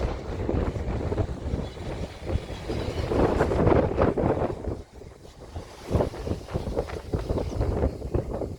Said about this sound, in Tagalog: Lakas ang hangin dito.